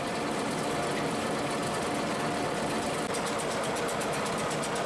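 A cotton carding machine runs at Quarry Bank Mill, a historic Cheshire textile mill, giving a steady, loud mechanical drone with a constant whirr; a faint rapid ticking rhythm joins in over the last couple of seconds.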